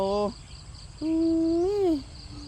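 Two tonal, hooting bird calls close by. The first is short, and the second is longer, rising and then falling in pitch, over faint background hiss.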